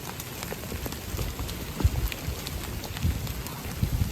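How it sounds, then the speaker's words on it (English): Hail and rain pelting down outdoors on a hot day, a steady dense patter with scattered sharper hits, heard from shelter under a tree or overhang. "See all the hail."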